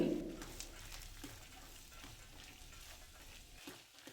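Peeled field beans frying in an onion tempering, giving a faint, steady sizzle with light stirring scrapes, close but quiet, and a bird cooing briefly in the background at the start.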